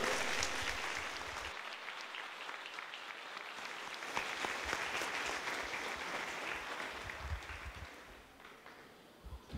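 Audience applause at a church celebration honoring a patron saint in Racine, Wisconsin, a long sustained wave of clapping from a crowd that slowly tapers off.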